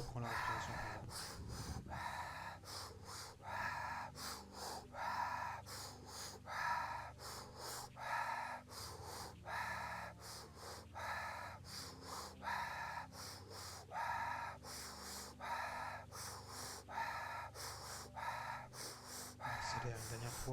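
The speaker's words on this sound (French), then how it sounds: "Et on reprend la respiration par la bouche." Rapid, rhythmic mouth breathing in a breath of fire pranayama exercise, with loud, evenly spaced huffing inhales and exhales repeating for about twenty seconds, close and breathy, with a constant soft background hum.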